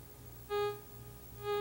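XLT metal detector without VCO audio, giving two short, plain steady beeps of even pitch as the coil passes over a buried target, heard alone over a faint low hum.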